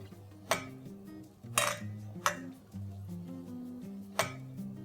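A spoon scrapes and clinks against a metal pot while spices, black pepper, salt and Kashmiri red chili powder are stirred in, four or five distinct knocks over a soft steady background, with faint speech in places.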